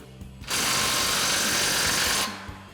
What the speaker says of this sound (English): finally our factory ball flare clamp with our 13mm socket